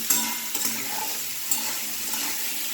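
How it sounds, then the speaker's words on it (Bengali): Chickpeas seasoned with turmeric and salt frying in a pan as they are stirred, a steady sizzle with occasional scrapes and light clinks of a spoon against the metal, close and continuous with no talking. "কিছুক্ষণ নাড়াচাড়া করছি"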